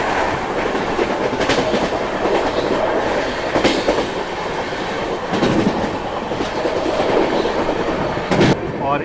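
A Rajdhani Express passenger train runs on rails, with a continuous loud rolling roar and rhythmic clickety-clack of wheels over track joints throughout.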